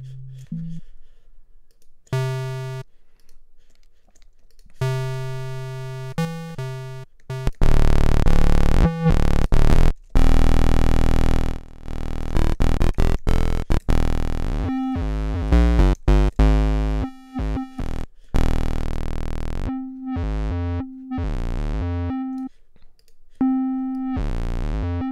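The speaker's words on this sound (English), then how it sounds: "It can even distort a sine wave pretty crazily." A sine wave from the Massive synthesizer's oscillator breaks into harsh, chaotic distortion, with stuttering bursts, dropouts and buzzing harmonic layers, loud and up front.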